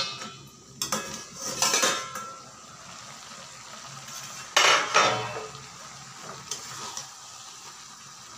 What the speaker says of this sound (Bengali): ঢাকাটা খুলে একবার দেখে নিচ্ছি।